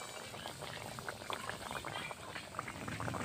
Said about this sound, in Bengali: লাল লাল করে একটু ভেজে নেব বিস্কুটগুলো।